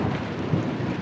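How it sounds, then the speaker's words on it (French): Thunder rumbles low and heavy through a dense wash of rain noise during a storm, a continuous deep roar with no distinct crack. "Vous entendez des tonnerres qui grondent"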